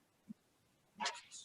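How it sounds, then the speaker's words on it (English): Dogs barking at home during a remote board of education meeting, one quick soft yip followed by a sharper, louder bark burst, fairly close but faint overall. "I'm at home and my dogs are going to be ridiculous."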